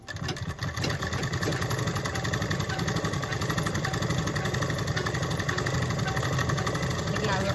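A sewing machine stitches fabric in a continuous, fast mechanical chatter that stays close and steady throughout, with no break in the running.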